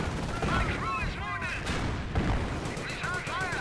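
A captured Vickers machine gun fires from a garrison during a Company of Heroes battle between Panzer Elite and British forces, sustained rattling bursts mixed with whooshing projectiles and thuds, with a commentator's voice over the top.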